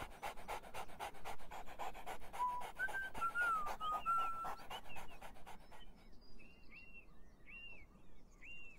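Rapid, steady panting of a dog in the game Beyond Eyes fills the first six seconds, with a faint whistled tune over it. Once the panting stops, short chirping bird calls continue over quiet ambience.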